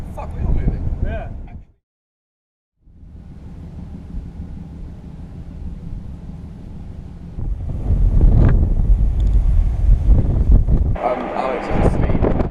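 Ship under sail, with strong wind buffeting the microphone out on deck; gusty roaring rises and falls, drops out briefly, then swells louder with a rushing wash, and people talk over parts of it.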